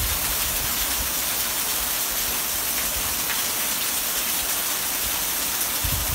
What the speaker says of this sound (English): It is pouring cats and dogs and wind.